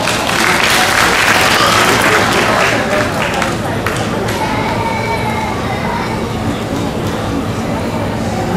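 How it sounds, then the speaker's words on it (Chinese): Applause from parents and guests at a kindergarten graduation ceremony greets a penguin-class child's mother; dense, steady clapping fills the room at close range, while voices murmur and talk underneath. "哇，我给他掌声鼓励一下。"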